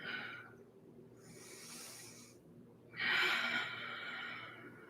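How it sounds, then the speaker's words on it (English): Deep breaths during a yoga flow, with a long airy exhale and a louder, close rush of breath near the end, alone without talk. "Breathing."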